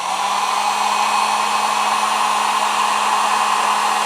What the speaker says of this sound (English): I'm going to heat it up briefly with the heat gun.